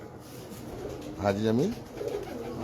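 A pigeon being checked for purity coos close by in a rolling, rhythmic series of low warbling notes, with someone speaking briefly before and after.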